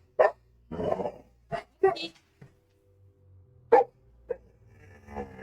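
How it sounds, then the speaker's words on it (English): Several dogs barking indoors at a bed frame, a few sharp close barks spread out in bursts with quiet gaps between them. "They're not even barking at each other. They're barking at the bed frame."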